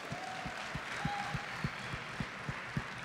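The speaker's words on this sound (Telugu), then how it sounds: "వీరి కోసం మనం అందరం ఒక్కసారి గట్టిగా చప్పట్లు కొడతాం." An audience at a film event claps steadily, a soft wash of applause with a few sharper claps standing out at a moderate distance.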